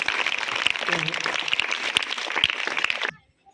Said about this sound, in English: Big claps to acting arts.